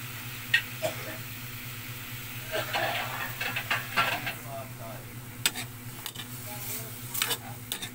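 Vegetables and chicken breast are stirred in a pan, with soft irregular scrapes and clinks of a utensil over a faint simmering sizzle and a low steady hum. The sounds are close and there is no talking.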